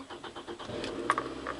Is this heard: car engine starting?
yes